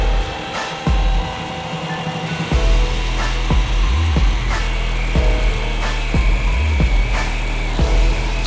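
An Ozito 18V cordless chainsaw whines steadily while cutting through hedge branches, with repeated rough bursts as the blade bites into wood, loud and close.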